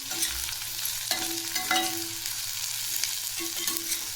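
Finely chopped radish fries in oil in a pan for a spicy village-style radish curry, with a continuous close sizzle and occasional stirring clinks and scrapes, no talking.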